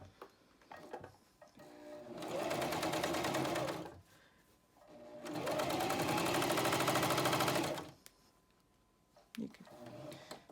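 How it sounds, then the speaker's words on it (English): A Janome Cover Pro 1000 CPX coverstitch machine runs in two steady, fast-stitching bursts of a few seconds each, close by, separated by quiet pauses with small handling clicks. "So we go ahead, we'll start sewing."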